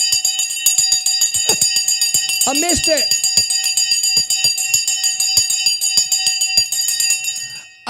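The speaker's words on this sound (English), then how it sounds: "oh my God, the bell's gone." An electronic bell rings continuously throughout, a loud repeating rapid trill over a steady tone, while a person speaks briefly and other voices and clatter sound underneath.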